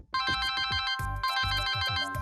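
A phone ringtone plays loudly, a bright electronic melody with repeating tones and no speech.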